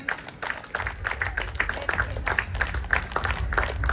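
An audience at a volleyball and throwball league closing ceremony claps steadily, the applause building slightly over a few seconds and heard from within the crowd.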